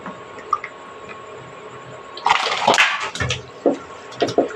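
Live koi fish (climbing perch) are lifted from water by hand, giving wet splashes, drips and squelchy flapping in irregular bursts, quiet at first and then a cluster of louder close splashes.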